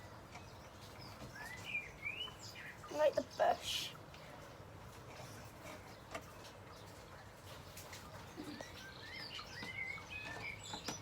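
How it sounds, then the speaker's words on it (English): Birds call outdoors near a bush, with scattered chirps and a louder burst of calls around the middle, faint and fairly distant under a man's speech. "There's some birds over there."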